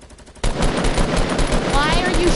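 Automatic gunfire in the Fortnite video game, with a dense, loud burst of rapid shots starting abruptly and running continuously, and faint other game sounds beneath.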